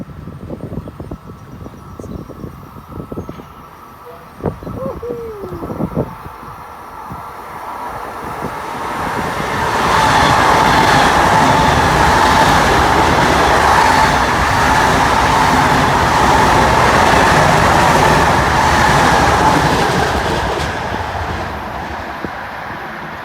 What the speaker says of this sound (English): Train at Penn Station from Ronkonkoma passing through here.